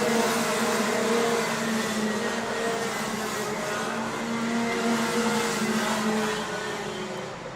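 Racing karts buzzing continuously at a kart club championship final, a loud steady high engine drone from several karts with no gaps, easing slightly near the end.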